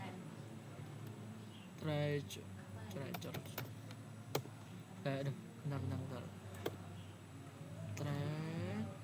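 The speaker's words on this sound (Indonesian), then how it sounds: "kita ketikkan trace" Computer keyboard typing while entering a command during an IPv6 addressing configuration exercise, a few soft clicks scattered among a person's near continuous talking.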